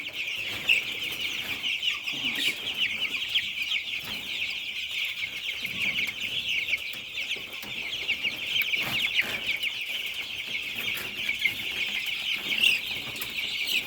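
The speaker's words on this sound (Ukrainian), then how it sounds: "А це курочка Ломан Браун." A flock of young broiler chickens and Lohmann Brown hens, a dense continuous chorus of peeping and soft clucking close by, steady throughout with occasional rustling and wing flutters.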